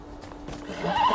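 A horse in the video game Beyond: Two Souls snorts and breaks into a whinny that swells over about a second.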